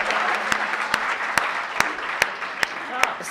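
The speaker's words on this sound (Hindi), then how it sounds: "हाँ तालियां एक बार बजा दो" Audience applauding a poet at a Hindi comedy poetry recital, a steady wash of clapping with sharp individual claps standing out, under a faint voice.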